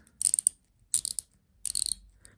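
Three quick bursts of fine, crisp ratcheting clicks, close and small, as an Aragon watch bezel is turned in short steps with pauses between.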